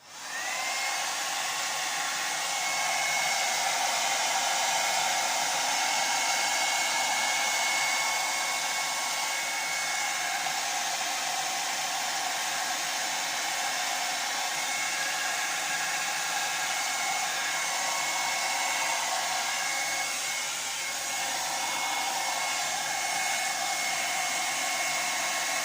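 A hair dryer blows steadily on a silicone acrylic pour painting, a constant close whooshing hiss with a faint motor whine that holds unchanged throughout.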